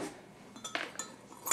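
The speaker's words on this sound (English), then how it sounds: "So mix it again, because you want all the sugar to go throughout the whole coffee." A spoon clinks against a glass while stirring sugar into iced coffee, making several bright, uneven taps close by, which sharpen toward the end over a quiet background.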